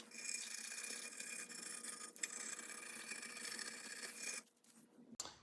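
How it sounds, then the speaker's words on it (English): A brush scrubs softened gasket material off a Subaru WRX engine part, a quiet, close, continuous rasping scrape that stops near the end with a short clatter. "we'll hit it with the brush now, see how much of this material we can get off"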